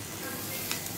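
Freshly washed, still-wet chana dal sizzles as it roasts in a pan for chutney, a dense close hiss of frying throughout the brief moment, with a couple of small pops and no talk.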